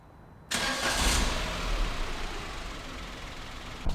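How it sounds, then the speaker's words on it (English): A car engine cranks and catches at once, settling into a steady, fairly loud idle rumble that runs to the end, with a small knock near the close. "Then we're going to turn on the ignition and hold it for 10 seconds."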